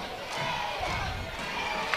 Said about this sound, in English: getting the crowd behind Braden Lee.